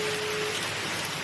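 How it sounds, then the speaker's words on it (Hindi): Steady rain hisses evenly outside a train travelling through Switzerland, a brief, constant wash of drops with a faint tone in the background. "अब करो तो करो कि कहाँ जाऊँ ऐसी बारिश में"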